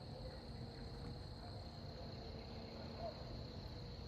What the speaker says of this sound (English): The sound of a lawnmower and crickets